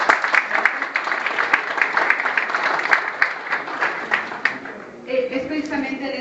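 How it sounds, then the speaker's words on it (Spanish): An audience at a human rights panel event applauds with continuous, dense clapping that thins out near the end as voices come in. "Y un aplauso,"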